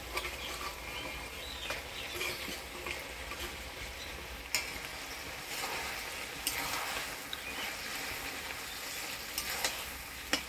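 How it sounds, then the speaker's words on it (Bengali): Fried fish heads go into a pan with potatoes for a Bengali home-style dish, and a faint, steady sizzle and crackle runs through with occasional stirring scrapes and no voices. "এবার ভাজা মাছের মুড়াগুলা দিয়ে দিব।"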